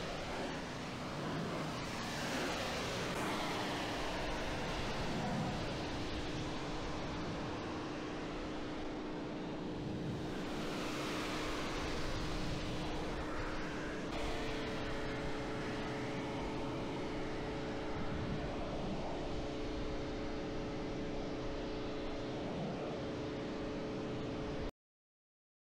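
An AVA P57 pressure washer fitted with a 20 degree Vario nozzle on a stubby gun sprays dirt and grime off a car, a loud continuous hissing roar with a steady motor hum underneath, cutting off at the end.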